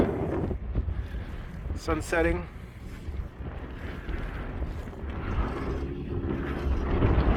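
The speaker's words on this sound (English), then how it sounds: "Super windy, boys." Strong desert wind at the King of the Hammers 2022 off-road race in Johnson Valley, California, buffets the microphone in heavy rumbling gusts while a person speaks briefly over the roar.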